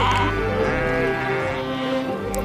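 Hundreds of dairy sheep gathered before milking in Ladakh bleat continuously, a dense flock chorus with overlapping calls sounding close and loud throughout.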